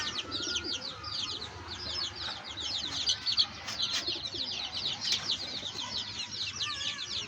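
Pigeons cooing steadily in a loft where a grizzle pair is laying eggs, a dense overlapping chorus of soft coos and burbles from several birds close by.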